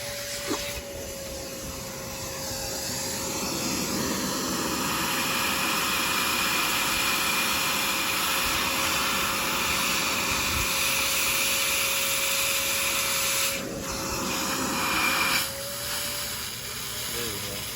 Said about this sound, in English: All right, let's try the vacuum.